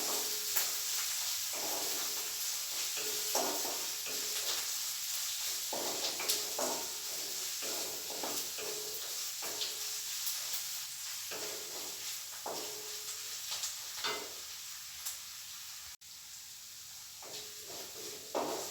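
Ginger and garlic frying in a pan while being stirred, a continuous hissing sizzle with repeated soft scraping strokes of the spoon, close and fairly loud throughout, no speech.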